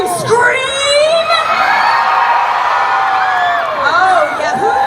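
A convention panel audience roars with a dense mass of shouts, screams and whoops, loud and sustained across the whole stretch with high voices piercing through.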